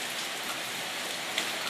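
Steady pouring rain with a dense, even hiss of drops, loud and continuous throughout, played back for a dog as a test.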